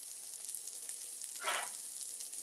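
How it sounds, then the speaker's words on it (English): Burger patties sear in a frying pan with a steady, quiet sizzle and a brief louder burst of hissing fat midway, heard alone. "I'm going to let them continue to cook so they can sear"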